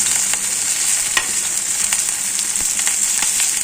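Raw banana slices fry in hot oil in a pan, giving a steady, close crackling sizzle throughout, with occasional clinks and scrapes as the slices are turned.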